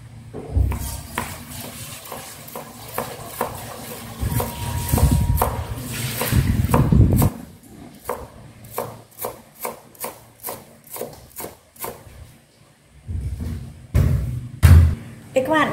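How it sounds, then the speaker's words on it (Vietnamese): Dill being finely chopped with a knife on a board while preparing steamed fish cakes and meatballs, giving bursts of quick rhythmic taps with pauses in between, and a voice speaking over parts of it. "Phần thì là này các bạn sẽ thái nhỏ ra"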